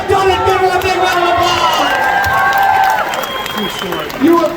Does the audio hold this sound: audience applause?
yes